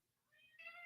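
A house cat lets out a soft, short meow, rising briefly and fairly faint, heard alone in a quiet room.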